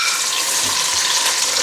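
Tomatoes frying in ghee in a karahi on the stove, a dense, steady sizzle close by with some stirring scrapes, heard alone without talk.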